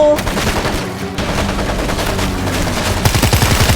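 Rapid bursts of gunfire in World War Z Aftermath crackle loudly and almost continuously, with a quick rattling volley near the end.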